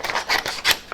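Scissors snip through shrink wrap sleeves in three or four quick close cuts, crisp rasping bursts with no voices.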